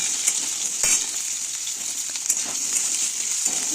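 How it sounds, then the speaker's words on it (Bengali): Potatoes sizzle in hot oil in a wok after cumin tempering, a steady bright frying hiss with a few stirring scrapes and clinks, close up and without talk. "কড়াইয়ের মধ্যে জিরে ফোড়ন দিয়েছি এরপর আলুগুলোকে হালকা লাল করে ভেজে নেব"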